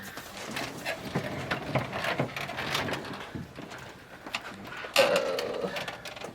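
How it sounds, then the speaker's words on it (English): A domestic sewing machine runs in steady bursts, quilting lines on a small fabric bag with heavy 40-weight thread, its motor whirring close and fairly quiet with brief pauses and a louder stretch near the end. "let's go to my sewing machine here real quick and let me show you how we do that."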